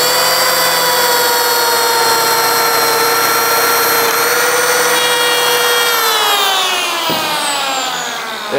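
Lamello Zeta biscuit joiner running with a steady high whine, then plunging its blade into the cut near the end, bringing a quick click and a shift in motor pitch, close and loud.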